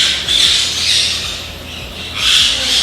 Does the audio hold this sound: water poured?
no